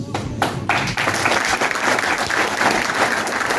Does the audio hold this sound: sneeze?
no